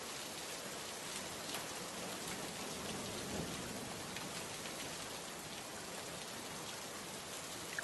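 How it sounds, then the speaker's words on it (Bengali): Soft, steady rain falls over flooded village fields, an even hiss of drops with no voices and no breaks, faint and continuous throughout. "সারা দিন একরকম বৃষ্টি হয়ে আসছে, এদিকে তো গ্রামের মাঠ ঘাট একদম জলে তলিয়ে গেছে।"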